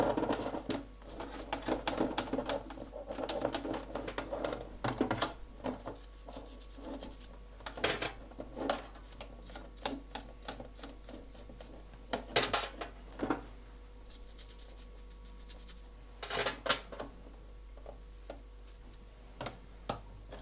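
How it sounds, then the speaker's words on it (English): A brush scrubs a bicycle chain coated in Agent Apple degreaser, giving close, faint, irregular scratchy strokes and clicks with a few sharper bursts, over a low steady hum. "So I'm scrubbing the whole chain,"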